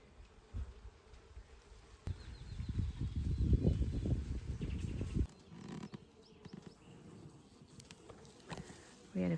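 Honeybees buzz around an open hive on a small farm, a close, dense hum swelling for a few seconds before dropping back to faint buzzing, with a brief voice nearby.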